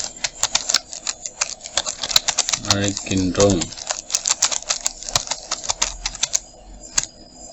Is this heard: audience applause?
no